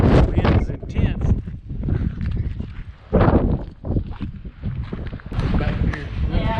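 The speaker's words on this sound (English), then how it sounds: "Oh, the wind is intense." Strong storm wind buffeting the microphone outdoors at the Biltmore Estate, loud rough gusts rising and falling under people talking.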